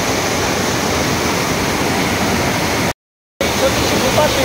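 Chorchavdi waterfall near Dahivad, Deola, a broad steady roar of falling water, loud and continuous, with a brief dropout to silence partway through.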